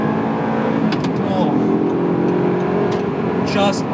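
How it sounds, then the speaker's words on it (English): A 2008 Audi R8 with a gated manual transmission revs hard while downshifting on an on-ramp, its engine note rising and swelling continuously under a brief spoken exclamation. "this engine loves to rev"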